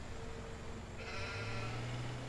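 A sheep's bleat heard alone, a drawn-out tonal call that shifts pitch midway and carries through to the end over a steady background hiss.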